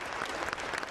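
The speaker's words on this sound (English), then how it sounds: "The crowd, glued to a live stream, cheered as the First Lady made her way to the stage and gave the new governor a standing ovation" A crowd claps steadily and fairly faintly for a new governor at a swearing-in ceremony in Noorvik, the dense applause heard from a distance.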